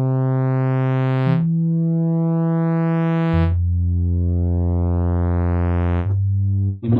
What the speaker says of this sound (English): We might even call that a bass sound now.